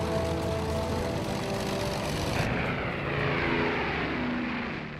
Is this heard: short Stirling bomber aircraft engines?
yes